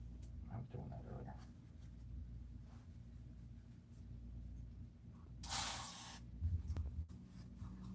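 Brake cleaner is sprayed in a single loud hissing burst lasting under a second, with faint workshop rumbles and small knocks around it.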